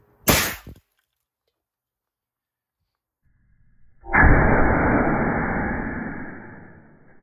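A sharp, loud air cannon blast reseating an off-road tire bead on its rim, followed by silence, then a second powerful whoosh of rushing air that slowly tapers off.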